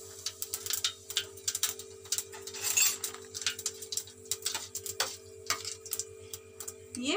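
White cumin seeds crackle in hot oil, tempering for a Bengali posto rui fish curry: a dense run of small sharp ticks and pops, close and fairly quiet, over a steady low hum, with no one talking.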